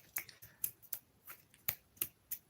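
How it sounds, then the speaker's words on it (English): Someone tries to snap their fingers, giving a handful of faint, dry, uneven clicks spaced irregularly over a couple of seconds, some barely landing, with no talking. "Finger snap."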